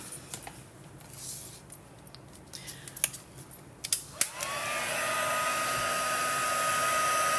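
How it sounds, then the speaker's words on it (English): A heat gun switches on partway through and keeps up a steady, loud blowing whir while it heats embossing powder in a craft project, after a few soft taps and rustles. "the heat gun takes a little while to warm up when you first use it"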